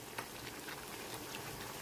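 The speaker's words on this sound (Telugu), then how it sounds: "ఈ చింతపండు వాటర్ కూడా మొత్తం డ్రై అయిపోవాలండి, బాగా ఉడకాలి." Tamarind water bubbles as it simmers with gooseberries for a pickle, a faint, steady soft popping and crackle with no voices.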